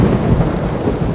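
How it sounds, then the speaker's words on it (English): Steady heavy rain with a deep rumble of thunder fills the scene in RollerCoaster Tycoon 3, a dense, loud wash of noise without pause and no voices. "Here comes the rain."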